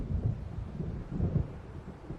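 A storm rolls in over open water in Alan Wake Remastered, with low rumbling thunder and gusting wind forming a steady, heavy roar and no talking.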